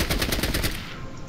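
AK rifle gunfire in the video game Fallout Tactics, a rapid burst of about eight evenly spaced loud shots in quick automatic rhythm, cutting off with a short tail.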